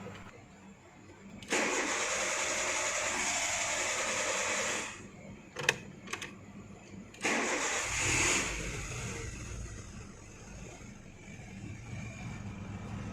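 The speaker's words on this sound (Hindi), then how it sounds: "तो देखो फर्स्ट सेल्फ में नहीं स्टार्ट हुई लेकिन सेकेंड सेल्फ में स्टार्ट हो गई।" A Renault Duster with a no-start fault and high intake air temperature reading cranks for several seconds without firing, pauses with a couple of brief clicks, then cranks again, catches and settles into a steady idle.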